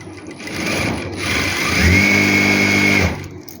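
A sewing machine stitching a farshi salwar, running in a steady close whir for about three seconds with a slight rise in pitch midway before slowing to a stop, with no talking.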